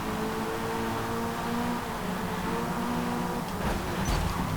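Mazda MX-5 race car in Forza Motorsport droning steadily at close range with a continuous engine note, then a brief louder burst near the end as another car comes alongside.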